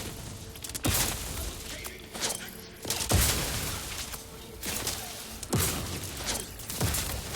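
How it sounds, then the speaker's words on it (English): Repeated mortar-like explosions in The Outer Worlds 2, a series of heavy booming blasts landing roughly once a second against a dense, noisy game background. "It's like a mortar strike."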